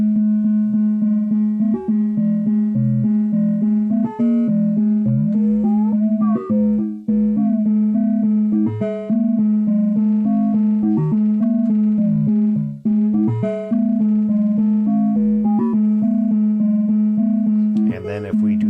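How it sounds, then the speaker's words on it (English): A steady Daisy Seed complex-oscillator synthesizer drone with its amplifier modulated before the wavefolder, a pulsing, wobbling amplitude, its tone shifting and throbbing continuously at constant loudness. "if we want to modulate our amplifier that comes between the primary oscillator and the wavefolder stuff"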